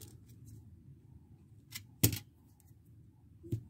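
Scissors snip the center conductor of a homemade radio antenna's coaxial cable with a few faint, close clicks. A sharper snip stands out in the middle of an otherwise quiet clip.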